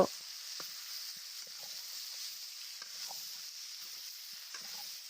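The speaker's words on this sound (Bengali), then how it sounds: "তারপরে আমি এটিকে ভালো করে কষিয়ে নেব" Vegetables with turmeric and salt sautéing in a pan, a faint steady hiss with scattered light taps and scrapes of stirring, quiet and close.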